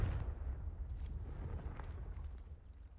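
The Confringo fire spell bursts in Hogwarts Legacy as a low, rumbling explosion that booms at the start and then fades into a rolling crackle with scattered pops.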